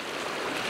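River water runs steadily below a waterfall, a dense continuous rushing hiss with no pauses, heard close by and alone.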